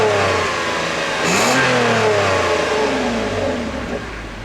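A 2011 Toyota Avalon's 3.5-liter V6 engine revs up and holds a steady, loud growl, the pitch climbing and easing back as it settles, with no talking.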